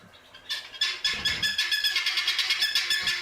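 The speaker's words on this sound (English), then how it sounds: "here's guinea fowl. Oh wow, that's such an interesting bird" A guinea fowl calls in a rapid, repeated series of harsh, rhythmic cackles that start after a short pause and keep pulsing steadily and fairly loud, with no talking.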